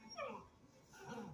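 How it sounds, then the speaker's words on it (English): Puppies in the Clifford The Big Red Dog movie giving two soft, falling whimpers a moment apart, faint and quiet with no voices. "Look at the baby dogs."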